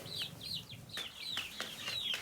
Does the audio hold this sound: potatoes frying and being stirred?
no